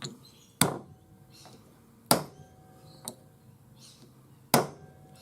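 A nylon dapping punch driven into a metal dapping block while doming a textured ring blank: four sharp, separate strikes spaced unevenly across a quiet bench, each a crisp knock with a brief ring, one lighter tap between them.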